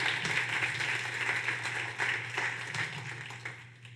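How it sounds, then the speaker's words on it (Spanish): Applause from a church congregation: steady clapping from many hands, moderately faint and fading toward the end, with no other sound on top. "Démosle un aplauso a este muchacho."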